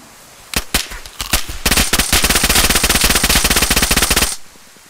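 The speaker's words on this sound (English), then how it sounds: "Somebody else is shooting." Loud gunfire in the DayZ video game: a few separate shots, then a long rapid automatic burst that stops abruptly, with nobody talking over it.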